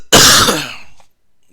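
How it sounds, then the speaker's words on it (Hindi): A single harsh, loud cough close to the microphone bursts out and tapers away over about a second, followed by near silence. "बहुत जबरदस्त खांसी हो गया है।"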